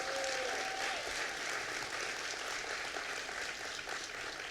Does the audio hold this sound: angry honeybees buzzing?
no